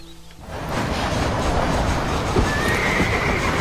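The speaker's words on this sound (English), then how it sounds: "o cavalo dele tá bravo" A horse whinnies and snorts in the Western game Red Dead Redemption, a loud sustained outburst over steady hoof and outdoor ambience, filling the whole few seconds without talk.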